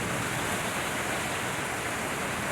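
Heavy nighttime rainstorm in Manaus, a dense, steady, loud roar of pouring rain filling everything evenly, with no voices over it.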